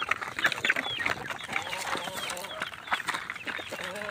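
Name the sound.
hungry chicks at feeding time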